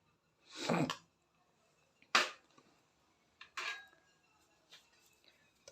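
Spoonful of desi ghee going into a metal pan for besan milk: a few separate clinks and scrapes of spoon against pan, close and fairly quiet, with silence between and no talk.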